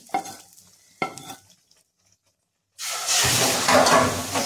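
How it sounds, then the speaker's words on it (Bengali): Two sharp utensil knocks against a pot sound first, then a short silence, then a loud burst of sizzling as egg bhujia is poured into hot curry, and the frying hiss keeps going after. "এবারে আমি ডিমের ভুজিয়াটা এই তরকার মধ্যে ঢেলে দিচ্ছি"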